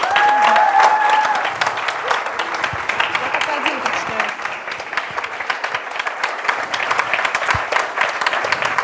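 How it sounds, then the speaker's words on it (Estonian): An audience applauds at a student company award ceremony, sustained clapping from a large crowd that carries on steadily while a voice speaks over it. "Suured tänud ja suur aplaus veel kord."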